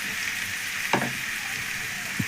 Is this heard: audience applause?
no